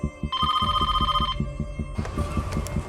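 A home telephone rings in two bursts of electronic trilling tones, close and clear over a low pulsing throb, with no one speaking.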